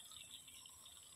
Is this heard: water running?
yes